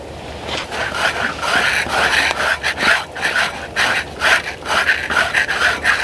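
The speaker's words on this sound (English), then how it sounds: "So we'll pull them up and then we'll scrape." A blade scrapes hair from a hog carcass while the pig is processed on a homestead, giving repeated rasping strokes in an uneven rhythm, close and fairly loud, with some breathing in between.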